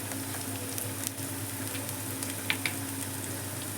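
Chopped vegetables for tomato bath sizzle steadily in a pan, a continuous close frying hiss with a couple of faint sharp clinks near the end.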